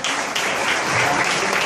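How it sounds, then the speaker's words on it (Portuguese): A church congregation claps together in a dense, steady burst of applause that fills the space, loud and continuous with no break. "E as palmas para o Senhor."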